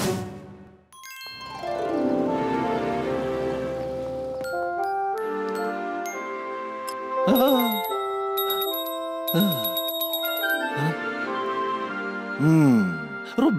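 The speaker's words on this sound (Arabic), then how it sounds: "ربما يجب علي استخدام الجرس الأكبر." A bell rings several times in a Garfield cartoon, with bright, tinkling metallic chimes and ringing tones over cartoon music and sound effects, fairly loud and close.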